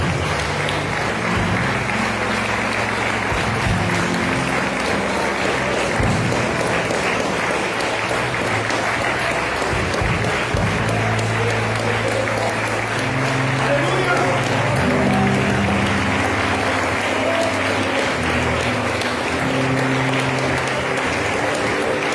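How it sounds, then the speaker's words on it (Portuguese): A church congregation claps steadily and loudly for over twenty seconds during a worship service, a dense, continuous wash of applause with voices mixed in beneath it. "Aplaude e glorifica o nome do Senhor"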